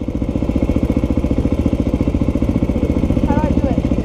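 A motorcycle engine running with a steady, rapid putter right after being started, loud and close throughout, with a brief whistle-like tone partway through.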